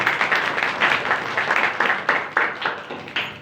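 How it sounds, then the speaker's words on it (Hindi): Loud rhythmic clapping from a congregation at a church New Year program in Lahore, with hands striking together in a steady, fairly even beat that fills the hall. "उस खुदा के जलाल के लिए जोरदार ताली।"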